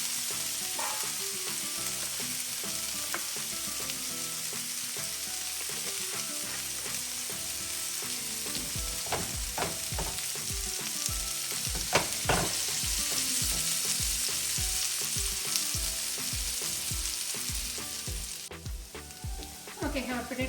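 Potatoes frying in oil in a pan for bindi aloo, an okra and potato dish, give a steady, dense sizzle with crackling pops that grows busier and louder through the middle, with no talking.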